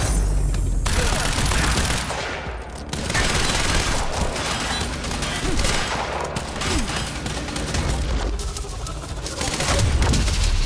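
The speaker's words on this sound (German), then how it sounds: "Noch eine Explosion hinten dran." Continuous loud rumbling blasts and gunfire-like crackle from the video game Quantum Break, dense and unbroken, with a brief dip partway through before the barrage resumes.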